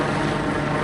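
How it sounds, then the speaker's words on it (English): A police helicopter over Carbondale, Illinois gives a steady, loud rotor and engine roar through the whole short stretch, with no speech over it. "It look like a police helicopter there."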